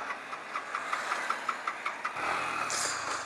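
A Yamaha Enticer cruiser motorcycle engine idles in a rough, uneven chug of regular pulses for about two seconds, then the beat breaks up and fades as the engine stalls and dies, close by with no talk.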